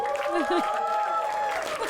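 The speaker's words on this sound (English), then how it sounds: "Huge applause for Karunesh as well." Audience applause for a contestant during a game show prize announcement, a steady wash of clapping with a voice speaking over it throughout.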